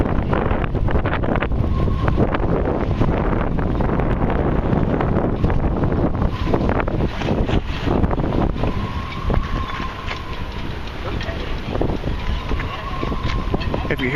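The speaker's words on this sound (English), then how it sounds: "I think that's the wind blowing through all these boats." Wind gusting and whistling through moored boats in a New York or New Jersey harbor on a hot summer day, a steady close roar of wind on the microphone with faint tonal whistles rising and falling around the middle and end.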